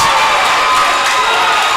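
A packed basketball crowd roars and cheers continuously during an OAC tournament game between Mount Union and Heidelberg in Alliance, loud and dense throughout the short stretch.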